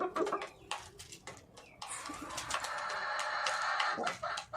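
Backyard chickens clucking and calling close by, a busy overlapping chorus of short clucks and squawks that grows denser and steadier in the second half.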